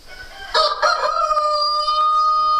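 Rooster crowing inside a chicken coop in winter, one loud drawn-out crow close by with other chickens clucking briefly around it.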